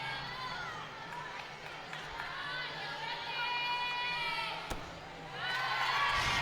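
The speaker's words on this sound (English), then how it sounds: "You can hear all of her teammates and the crowd just rallying behind her." Gymnastics meet crowd and teammates cheering and shouting encouragement for a gymnast, a steady wash of voices and calls at moderate distance, with brief sharp sounds and a surge of cheering near the end.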